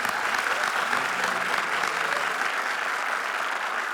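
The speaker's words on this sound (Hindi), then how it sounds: "थैंक यू, जोरदार तालियां।" A studio audience at a comedy show breaks into steady, loud applause, a dense wash of clapping that holds evenly for a few seconds with no talk over it.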